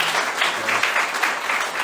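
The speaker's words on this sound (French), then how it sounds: "On peut les applaudir aussi." Church congregation applauding, a continuous wash of many hands clapping at even loudness, close and full, with no talk over it.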